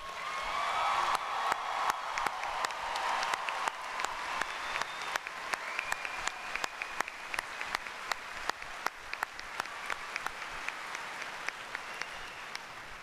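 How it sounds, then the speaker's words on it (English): An audience at a university spring commencement gives the graduates a final round of applause, with steady, fairly distant clapping filling a large hall and sharp individual claps standing out above the crowd over many seconds. "let's give our graduates one final round of applause."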